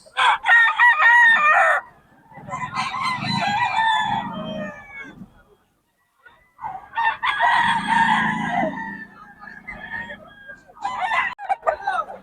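Gamecock stags crow loudly and close by in several long calls separated by brief pauses, with clucking and faint voices in the background.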